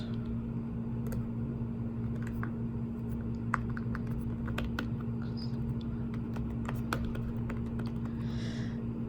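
Typing on a computer keyboard, with sparse, uneven keystrokes clicking softly over a steady low electrical hum and no talking.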